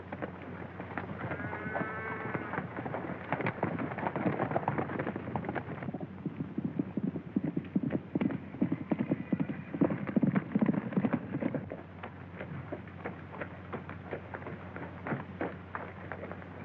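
Horse hooves clip-clop steadily through a western film scene, close and fairly loud, with a rumbling, busier stretch of galloping in the middle before settling back to a lighter trot.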